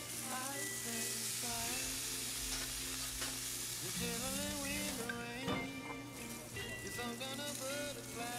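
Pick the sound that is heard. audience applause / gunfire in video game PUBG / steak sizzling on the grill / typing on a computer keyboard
steak sizzling on the grill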